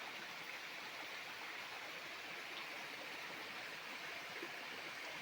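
Steady rushing of a flowing stream, even and continuous, faint and unchanging throughout with no voices.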